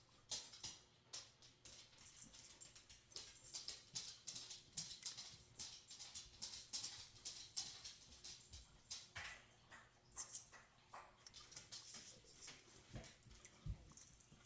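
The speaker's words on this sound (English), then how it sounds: "my dog was making a lot of noise" A dog makes restless noise indoors, heard as scattered whimpers, sniffs and clicking patter in irregular bursts, faint but continuous, with no talking.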